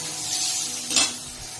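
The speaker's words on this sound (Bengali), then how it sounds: "আমি এখন বেগুন ভাজছি" Eggplant slices fry in a pan, a steady close sizzle with a brief louder hiss near the middle as the food is moved.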